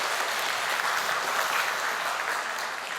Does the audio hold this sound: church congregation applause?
yes